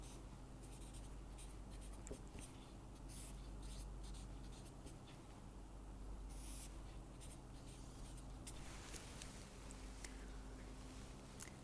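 Chalk or marker scratching on a board during a lecture on signal time-bandwidth products, steady strokes and taps over a constant low hum in a quiet room, with no talking.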